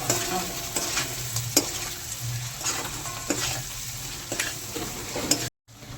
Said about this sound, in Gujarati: હવે આપણે મરચુંને મિક્સ કરશું